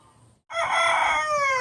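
A native chicken rooster crows once, loud and close, a drawn-out cock-a-doodle-doo after a brief quiet moment.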